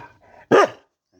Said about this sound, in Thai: เห่าไปเรื่อย